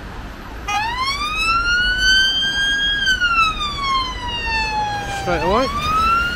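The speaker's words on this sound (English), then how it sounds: "We've got a police car about to come out." A loud police car siren wails nearby, sweeping slowly up and down and then whooping quickly near the end, with a brief voice speaking underneath.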